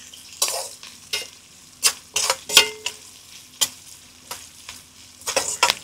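Onions frying in a pan while being stirred, with repeated scraping strokes of a spoon against the pan over a steady background sizzle, close and fairly loud.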